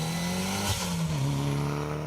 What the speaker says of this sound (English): And it is that glorious looking and sounding Mitsubishi Galant of Tom Courtry and Ian Fraser.